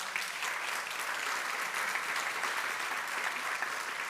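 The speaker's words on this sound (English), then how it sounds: "So a big applause also for them." Steady applause from a seated audience at a European heritage awards ceremony in Nicosia, dense and even throughout with no pauses.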